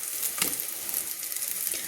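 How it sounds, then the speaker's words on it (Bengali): Prawn head fritters fry in mustard oil, giving a continuous close hiss and crackle of sizzling with a soft scrape as they are turned. "এবার আমি দেখুন আমি অপর পিঠটা ভাজা হয়ে গেছে, এবার আমি উল্টে দিচ্ছি।"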